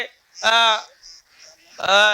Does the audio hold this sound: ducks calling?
yes